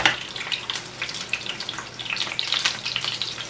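Washed garlic still wet from rinsing sputters and crackles as it fries for a red salsa, irregular sharp pops over a steady sizzle, close and with no talking.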